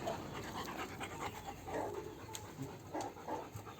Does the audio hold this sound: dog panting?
yes